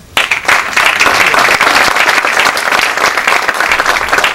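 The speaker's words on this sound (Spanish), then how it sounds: "Felicitaciones, un fuerte aplauso." Loud, full applause from the audience at a ceremony honouring engineers for 25 years of service, bursting in abruptly and holding a dense, steady roar of many hands clapping throughout.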